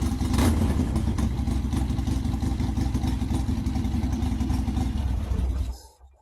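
A small engine with a freshly changed spark plug chugs and rattles steadily at a fast idle, close by, running evenly for several seconds before cutting off abruptly.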